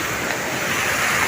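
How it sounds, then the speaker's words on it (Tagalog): Hot spring water gushing out of rock at a resort in La Paz, Leyte, a steady, loud wash of flowing water with broadband rush, continuous and close, with no voices. "mayroong mainit na tubig o maagos o lumalabas sa bato"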